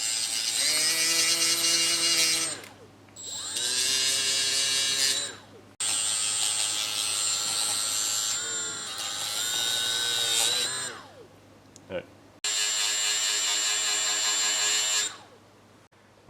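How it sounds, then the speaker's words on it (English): Power tool grinding and sanding a metal car bracket down to bare metal, loud close high whining bursts that start and stop repeatedly, each a few seconds long with brief pauses between. "I'm just going to grind this down a little bit here."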